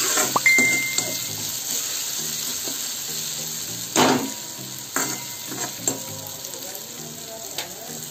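Browned onions sizzle in a pan as tomato is tipped in, a steady close frying hiss with scattered spoon taps and scrapes while making Maharashtrian pithla.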